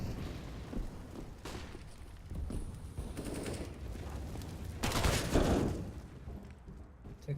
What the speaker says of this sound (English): firing some warning shots